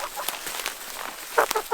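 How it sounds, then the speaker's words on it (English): Domestic geese on a smallholding, walked along a path to a pond, giving short nasal honks and clucking calls, a loud cluster near the end over faint outdoor background. "just taking the geese for a little walk up to the pond"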